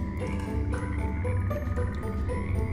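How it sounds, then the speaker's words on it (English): Frogs croaking in a cozy modded Minecraft survival world, a repeated rhythmic croaking chorus over steady game ambience and background music, no talk. "Oh my gosh, the little frog noises."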